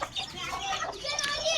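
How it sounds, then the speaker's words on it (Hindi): A hen and her chicks pecking at scattered grain on a farm, soft clucking and high chick peeping mixed with light background noise, close and moderately quiet. "तो देखिए सारे चूज़े भी हमारे दाना खा रहे हैं अपनी मम्मा के साथ"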